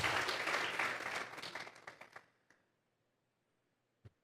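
A church congregation claps together as an offering of praise, a loud burst of applause that thins out and stops within a couple of seconds, followed by silence and a single faint tap.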